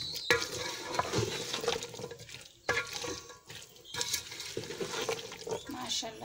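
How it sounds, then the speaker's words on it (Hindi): Chickpeas roast and get stirred in hot oil in a pan for an egg-and-chickpea curry, a steady frying hiss broken by repeated scraping stirs, close and fairly loud over a constant background. "इसमें अब हम छोले ऐड करेंगे। बिस्मिल्लाह रहमान रहीम। इसको हम 1 से 2 मिनट भूनेंगे"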